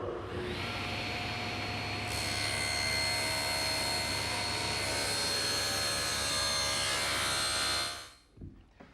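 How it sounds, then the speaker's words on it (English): A table saw runs loud and steady as its blade, tilted to 30 degrees, bevel-cuts plywood against the rip fence for a doll house roof. The motor whines on for several seconds, then winds down near the end. "I've tilted the table saw blade to 30 degrees and adjusted the rip fence for the correct height."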